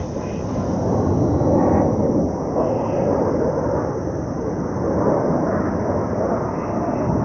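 An airplane passes overhead as a low, rumbling roar that swells slightly and holds steady for about seven seconds, with no speech heard.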